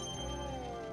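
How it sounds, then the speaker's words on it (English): Pulsar sound effect from one of Nintendo's hardest platforming levels: a steady, dense electronic tone with bell-like ringing partials, held continuously and fairly quiet for about a second, with no talking. "I love the sound effects of the pulsar. It's like a weirdly satisfying"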